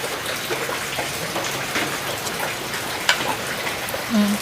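Steady rain patters on a metal roof, a dense continuous hiss with scattered drips, fairly close and without talk.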